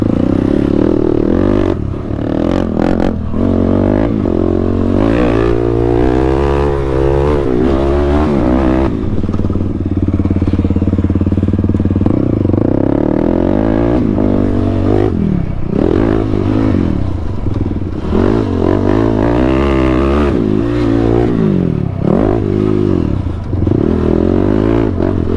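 A Kawasaki KFX quad ATV engine running loud and close, revving up and down repeatedly with a throaty, uneven idle between pulls.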